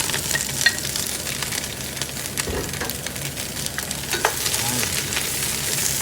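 Cabbage sautéing in a hot frying pan, giving a steady close sizzle and crackle with occasional stirring scrapes throughout, with no talk over it.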